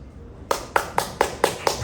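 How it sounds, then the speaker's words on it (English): Six sharp, evenly spaced claps ring out close and loud after a quiet start, like a few hands at a mayoral election town hall in West Vancouver rather than a full crowd. "Hold your applause."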